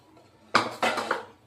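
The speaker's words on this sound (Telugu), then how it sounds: "ఇప్పుడు నేనైతే చేసిన కూర మొత్తాన్ని ఇలా బౌల్కి ఎత్తి పెట్టుకున్నాను." Tomato egg curry scooped from a pan into a bowl, giving a few distinct metallic scrapes and clinks of a utensil against cookware, close and crisp with no talking.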